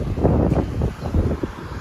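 Wind buffeting a microphone on an open beach at a backpacking campsite, a steady low roar with gusty swells throughout, loud and close with no talking.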